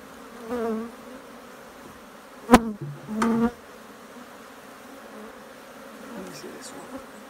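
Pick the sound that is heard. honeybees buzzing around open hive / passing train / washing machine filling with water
honeybees buzzing around open hive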